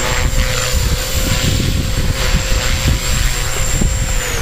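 A small EXI 250 RC helicopter hovers nearby with a loud, steady rotor whine and a high motor tone, its pitch dipping slightly as the throttle is pumped, under a constant rumble of wind and rotor wash.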